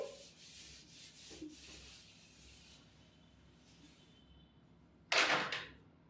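A teacher rubs writing off a board, heard as faint, soft swishing strokes in the first seconds, then a sharper, louder scrape near the end.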